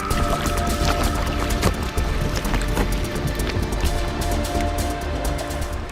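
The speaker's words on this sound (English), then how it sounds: "The sound of bubbles popping, the sound of ice grinding against itself." Glacial ice in Sierra Cove, Antarctica, crackles and fizzes as trapped air bubbles pop and floating pieces grind against one another, a dense continuous texture of tiny clicks and rustles over a low watery rumble.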